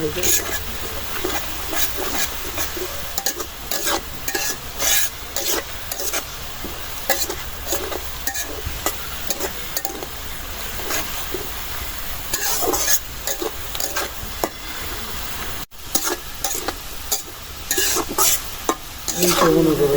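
Onion and garlic fry in oil for khichuri, a loud continuous sizzle broken by repeated scraping stirs of a utensil against the pan, with a voice talking over the cooking now and then.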